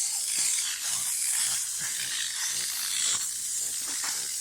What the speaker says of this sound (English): It's steaming.